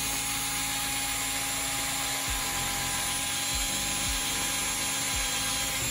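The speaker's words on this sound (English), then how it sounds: "So the hole punch is actually faster today." A hole punch working through leather for a grazing muzzle: a few dull, heavy clunks at uneven intervals over a steady mechanical hum.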